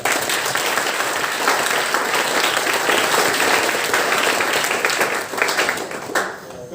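Sustained applause from an audience at an inauguration and felicitation ceremony at IIT Patna, dense and steady clapping throughout that thins out near the end.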